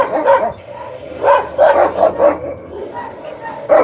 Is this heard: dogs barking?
yes